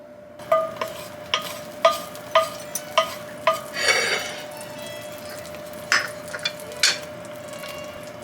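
Butter heats in a pan as leeks are about to go in, a faint low sizzle under a string of sharp metallic clinks and taps from a utensil against the pan, roughly evenly spaced, then a few more after a brief swell.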